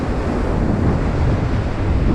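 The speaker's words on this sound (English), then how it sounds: "The wind's blowing really hard at the moment still." Strong wind blowing hard at the seashore while sea fishing at Southbourne, a loud, steady roar buffeting the microphone with no talk.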